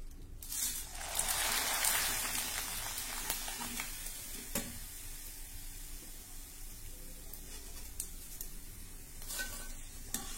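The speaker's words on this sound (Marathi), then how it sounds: "साबुदाण्याचे पोहे तळून झाले।" Sabudana flakes frying in hot oil for a fasting chivda give off a steady close sizzle, with a brief louder burst of bubbling as they are stirred and occasional light clinks of a utensil against the pan.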